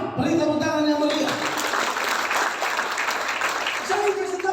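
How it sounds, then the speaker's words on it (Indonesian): A church congregation at a Sunday sermon breaks into applause, a dense sustained wash of clapping filling the room, with a voice speaking just before and after it. "Beri tepuk tangan yang mulia."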